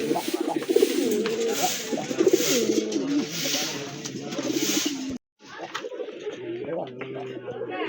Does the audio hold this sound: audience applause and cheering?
no